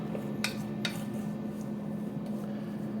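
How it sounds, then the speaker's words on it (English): Brussels sprouts tossed with neutral oil and salt in a bowl give two quick clinks and light scraping rattles over a steady low kitchen hum, with no talking. "Just give that a little toss to coat in oil."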